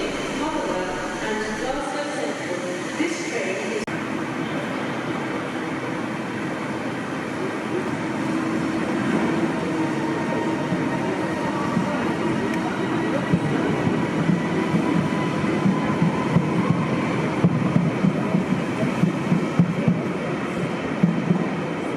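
Preserved steam locomotive 71000 Duke of Gloucester running through Carlisle station on a passenger-less charter, a steady rumbling roll of wheels and train noise that swells and grows busier as it draws near, loud and continuous.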